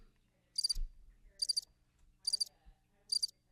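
Cricket chirps used as a comic silence effect: four short, evenly spaced, high chirping bursts, clear and alone, with one soft low thump near the first burst.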